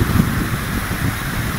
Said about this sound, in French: là il y a un peu de vent, j'espère que vous entendez ce que je dis